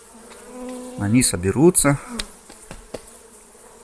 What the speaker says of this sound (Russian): аккуратненько стряхиваем пчел из пустой рамки